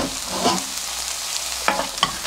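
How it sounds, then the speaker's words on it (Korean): Onion fries in a pan with a low, even sizzle, while a couple of brief scraping stirs rise briefly above it toward the end. "양파 먼저 조금 볶아주겠습니다"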